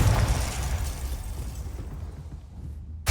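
Confringo spell explosion in Hogwarts Legacy, a loud burst at the start that fades into a long rumbling decay, with a second sharp burst right at the end.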